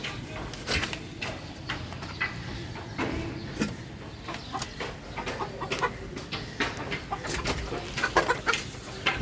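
Chickens clucking on a rooftop, a close, busy stream of irregular clucks and short squawks from several birds, with outdoor background noise and no clear talk.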